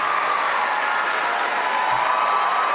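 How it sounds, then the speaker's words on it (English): A crowd at a campus debate event breaks into loud, dense clapping mixed with cheering, a sustained roar of hands that stays constant from start to end. "I don't know why y'all are clapping."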